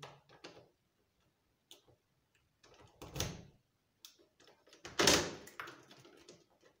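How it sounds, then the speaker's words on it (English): A key works a door lock in a house in Slovenia, producing scattered metallic clicks and ticks with two louder clunks of the bolt turning, close and intermittent with quiet gaps. "and I'll lock this door."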